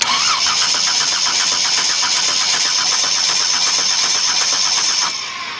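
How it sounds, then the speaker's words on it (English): An inline-six car engine is cranked by its starter without catching. A steady, rapid rhythmic churning continues at close range for about five seconds, then drops off at the end. "Let's turn it over."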